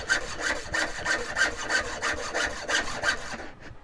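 Steady back-and-forth sawing through wood while carving spoons, about ten rhythmic strokes at an even pace, close and clear, ending abruptly.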